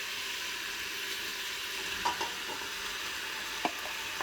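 Andouille and regular sausage sizzle in a pan for jambalaya, giving a steady, moderate frying hiss with a few light stirring clicks.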